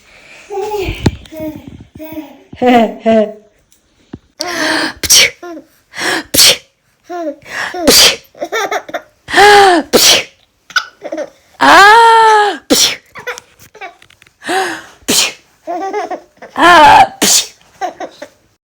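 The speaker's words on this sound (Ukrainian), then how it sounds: "Я тільки що чихнула у ванні" A woman sneezes repeatedly in a bathroom, loud and close, with several sharp sneeze bursts spread across the stretch, mixed with gasps and breathy sounds, and a voice joins in between them.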